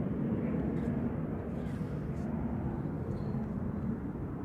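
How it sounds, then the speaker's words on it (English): A Ryanair Boeing 737-800 departs Manchester Airport, its steady low jet roar heard from a distance as a continuous, even rumble with no pauses. "Ryanair flight 2141 operated by Buzzload off to Krakow"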